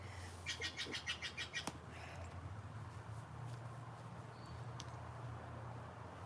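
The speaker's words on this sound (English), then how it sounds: "there's a bird chirping." A bird chirps in a quick run of bright repeated notes early on, then a few scattered faint calls over a steady low background hum; fairly quiet and no talking.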